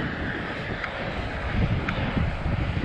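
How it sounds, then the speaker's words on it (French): Wind rushing steadily against a road cyclist riding at about 27 km/h on the big chainring, a continuous broadband roar buffeting the microphone with slight gusts. "Je savais que j'allais avoir le vent contre moi."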